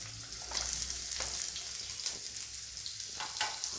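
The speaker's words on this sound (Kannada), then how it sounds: "ಸ್ವಲ್ಪ ಹಾಗೆ ಲೈಟಾಗಿ ಫ್ರೈ ಮಾಡ್ಕೊಳ್ಳೋಣ" Onion, garlic, cinnamon and cloves sizzle lightly in a pan with a steady, close hiss and occasional soft scrapes of stirring, and no voices.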